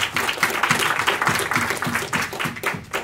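Audience applause at a 2018 crypto investor conference reception, a steady wash of many hands clapping for about three seconds, dense and fairly loud with no talk over it.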